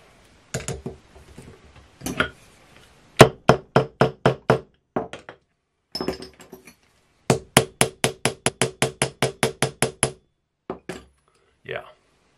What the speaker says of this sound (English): Hammer this down.